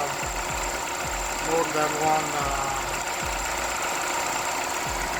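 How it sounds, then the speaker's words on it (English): A/C condenser fan on a Skoda Fabia MK1 runs with a steady whirring drone beneath a periodic low engine thump, while someone talks briefly over it. "I think the big fan will go into a larger RPM, but this is not enough"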